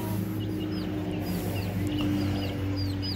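Chickens, including a rooster and big hens, cluck softly in short bursts in an enclosed space over a steady low hum, with occasional higher peeps from baby chicks scattered through.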